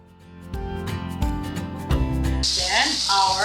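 Onion sautéing in a pan for Filipino pork afritada, starting as clattering and tapping that give way to a steady, bright sizzle in the second half, with faint talk in the background.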